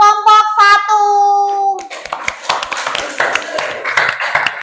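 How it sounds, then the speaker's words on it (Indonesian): Children in a primary school class clap for a group of classmates. A short sung or voiced tone comes first, then a burst of brisk, uneven clapping from several pairs of hands close by. "beri tepuk tangan untuk kelompok"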